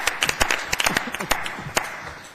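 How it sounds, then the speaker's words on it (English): Applause at a school district board meeting honoring a conference-winning soccer team, a short burst of sharp individual claps from a modest crowd that thins and fades out. "How about a big round of applause for the team conference 5 years in a row for soccer?"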